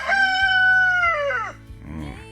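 A rooster crows one long, loud, close call on a sunny morning outdoors, followed by a few softer clucks from nearby chickens.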